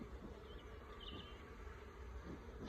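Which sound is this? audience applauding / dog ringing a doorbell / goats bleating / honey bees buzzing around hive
honey bees buzzing around hive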